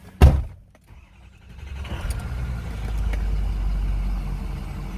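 A truck door thumps shut once, close and loud, then the cab settles into a steady low rumble of the engine running, with no talk.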